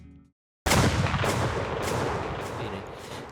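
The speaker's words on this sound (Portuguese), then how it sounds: "basicamente é um som de um tiro com um eco" A single gunshot sound effect with echo, used as a musical sound, bursting loudly after a short silence and then rolling off in a long reverberating tail.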